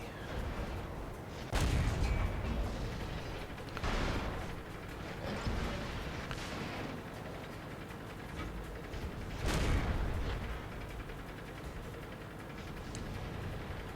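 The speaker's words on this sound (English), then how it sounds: "that was an artillery near miss. Blew the tracks off." An artillery shell lands near a tank in World of Tanks, giving two heavy booming blasts several seconds apart over a constant rumbling engine and battle noise.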